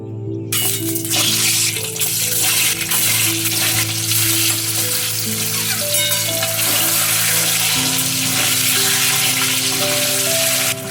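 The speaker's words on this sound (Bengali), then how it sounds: "ডিমগুলো এখানে খুব বেশি ভাজবো না, হালকা করে ভেজে নেবো।" Eggs frying lightly in hot oil seasoned with salt and a pinch of turmeric, giving a loud, dense, continuous sizzle with steady crackle and faint background tones throughout.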